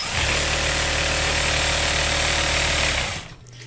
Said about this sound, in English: one of the things that I love about the sewing machine actually is that it sounds just like a tractor